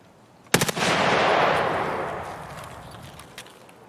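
Video game gunshots with a headshot: a loud, close burst of several rapid shots at once, followed by a long rumbling decay and a faint extra report near the end.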